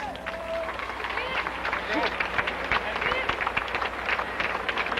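Crowd applause at a 1993 UAAP basketball awards ceremony, dense clapping and crowd murmur filling the hall steadily, with a voice talking over it.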